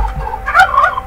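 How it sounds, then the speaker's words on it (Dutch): A bird creature in a Minecraft-style video game lets out a strange, warbling gobble-like call that lasts about a second, fairly loud and heard alone. "Leuke vogel. Oké, maar hij maakt wel heel raar lawaai."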